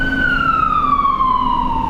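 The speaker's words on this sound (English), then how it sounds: "the sound of a fire truck" A fire truck siren wails alone in a single long, loud tone that slowly glides downward across two seconds, with faint traffic rumble underneath.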